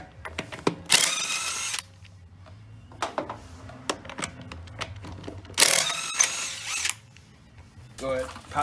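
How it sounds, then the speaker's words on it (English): An impact wrench fitted with a 19mm socket loosens the lug nuts on a Jeep Wrangler wheel in two loud, close bursts of rattling hammering. Quieter clanks and handling noises come between the bursts and after them. "take your impact in a 19mm socket, and we're going to remove"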